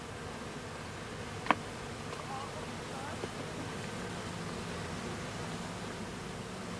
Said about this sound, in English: any bees adhering to the outside are brushed off so that they can fly to join the colony